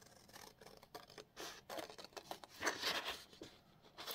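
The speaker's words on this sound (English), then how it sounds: "So now let's cut this out." Scissors snipping through paper for a junk journal bookshelf page, a quick run of close, crisp cuts with short pauses between them.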